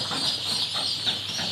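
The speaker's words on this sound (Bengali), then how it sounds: "এখানে আপনার গিনি ফাউল রয়েছে, মানে চীনা মুরগি" Guinea fowl, also called Chinese fowl, call on a poultry farm with chick breeding, a dense, continuous chatter of harsh repeated cries from several birds at moderate distance.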